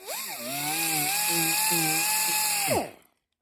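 A die grinder with a disc whines at a high pitch as it smooths a metal door panel from a classic Mini MK1/2, with a short spin-up, a steady close grinding tone for over two seconds, then a quick wind-down to silence.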